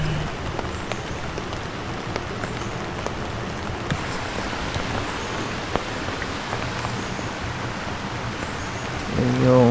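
Steady, continuous rain at a campsite in Mauban, Quezon, a dense close hiss of drops pattering on surfaces with occasional sharper ticks, unbroken throughout.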